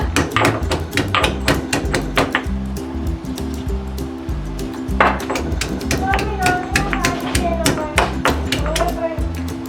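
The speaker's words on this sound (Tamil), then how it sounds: "இஞ்சியை நல்லா வந்து இந்த மாதிரி தட்டிடுங்க" Rapid, repeated pounding of ginger in a close, sharp rhythm, heavy thuds with a brief pause midway before the beating resumes.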